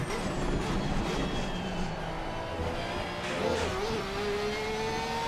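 A Porsche GT3 race car's engine drones at steady mid pitch in Assetto Corsa, rising and falling with throttle through corners, moderately loud and continuous with no talk.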